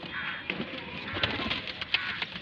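Pigeons at a pigeon keeper's loft in Bareilly, Uttar Pradesh, give soft, low cooing calls that repeat steadily, fairly quiet and close, over a faint hiss of background noise.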